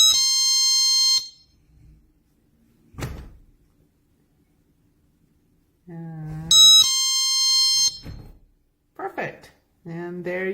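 A GE personal security window and door alarm sounds loud, shrill bursts: one long blast at the start and another midway, with quieter clicks, a short tone and a voice between them.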